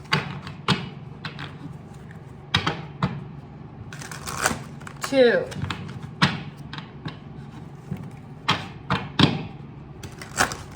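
A deck of tarot cards is shuffled in several short, separate bursts of crisp riffling and tapping, close by, while a voice counts and speaks between the bursts.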